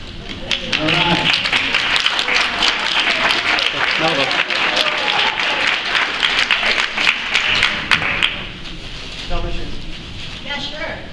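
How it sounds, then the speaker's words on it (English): An audience at a general meeting applauds with dense, continuous clapping that thins briefly near the end before a final burst, with voices mixed in. "would you like to just stand and we can applaud you for your efforts"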